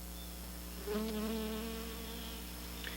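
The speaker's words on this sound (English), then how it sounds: "Bees and other insects find the flowers irresistible" Bees and other insects buzz steadily around flowers over a constant hum of outdoor background noise, a droning tone that swells briefly and then settles.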